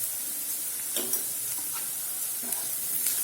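Onion and garlic sizzle in a pan with turmeric: a constant close hiss of frying with a handful of light stirring clicks and scrapes scattered through it, no voices.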